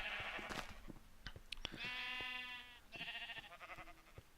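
Several Minecraft sheep bleat in turn, with two clear drawn-out bleats in the middle and end and scattered short clicks and thumps between them; no talking.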